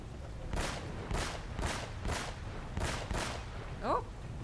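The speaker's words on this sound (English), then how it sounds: "I'm gonna shoot these things." Gunshots in the video game Uncharted: Drake's Fortune, six evenly spaced sharp cracks at roughly half-second intervals over a low rumbling background, fairly faint, followed by a brief squealing cry.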